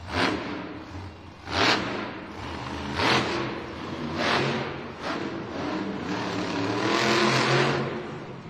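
The Megalodon monster truck's engine revs at a Monster Jam arena show in Green Bay, Wisconsin, with repeated loud surging bursts of throttle roughly every second or so, rising and falling over the arena's echoing background.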